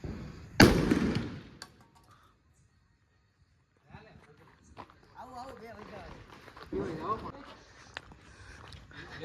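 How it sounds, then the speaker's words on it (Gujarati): Firecrackers going off outdoors, one loud close burst early on, followed by a quiet pause and then scattered crackles and pops under people talking. "પેલા ક્યાં ફટાકડા ખોલે જો"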